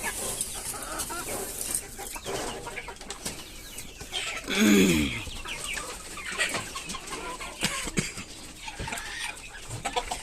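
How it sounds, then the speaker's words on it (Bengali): Desi hill chickens on a farm cluck and call amid a busy, noisy background, with one louder squawking burst in the middle over steady ambient clatter. "আর এই হচ্ছে রে মুরগিগুলা"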